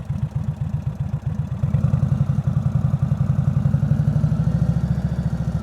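A motorcycle engine idles and chugs through slow-speed riding practice, with steady rapid low pulsing that grows louder and denser after a moment as the clutch is worked. It is close and continuous, with no talk over it.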